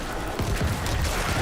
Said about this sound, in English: Throw my little bone spirit in there. It explodes.